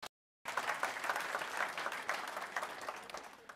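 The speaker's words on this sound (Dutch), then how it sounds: "Ik wil even een applaus" An audience at an information evening on care in Noordoost-Friesland breaks into applause after a short silent gap. The clapping is dense and steady at moderate volume, then eases slightly toward the end.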